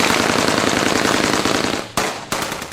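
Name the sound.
automatic gunfire burst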